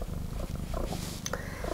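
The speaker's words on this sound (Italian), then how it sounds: "Praticamente sentiranno tutte le tue fusa sul microfono e non la mia voce." A domestic cat purring right against a microphone, a soft low rumbling purr that pulses steadily with a faint shuffle near the end.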